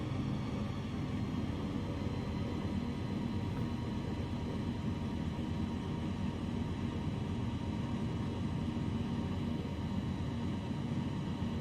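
An airplane in Microsoft Flight Simulator flying in VR gives off a steady, unbroken engine drone and broadband rumble, even and continuous at moderate loudness with no talk over it.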